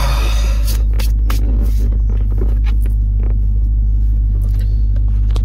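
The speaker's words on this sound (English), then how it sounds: "while the car warms up a little bit" A car engine idles steadily while warming up, a loud, constant low rumble and hum close by, with a few faint clicks and rustles on top.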